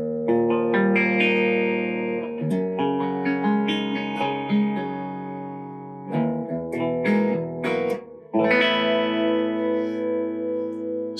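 A clean electric guitar with no effect engaged and only a touch of reverb plays a steady sequence of ringing notes and chords, with a brief gap near the end before the playing resumes.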